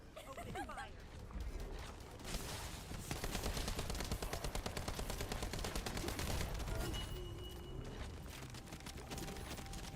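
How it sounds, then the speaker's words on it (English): Sustained bursts of automatic gunfire in The First Descendant video game, rapid and continuous for several seconds with a denser volley in the middle, mixed with game effects and without clear speech. "Take care of it. Open fire."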